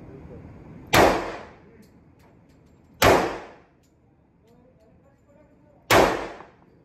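Three loud, sharp shots from a .45 caliber pistol at a practice range, each spaced a couple of seconds apart and followed by a short ringing decay over quiet surroundings.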